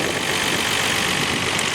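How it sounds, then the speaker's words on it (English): A 1999 Nissan R34 GT-R V-spec with an RB engine idles nearby, its solid lifters and noisy injectors giving a steady, even mechanical drone with no talk over it. "the RB engines are generally a louder engine as it goes because of solid lifters, and just the injectors are really noisy"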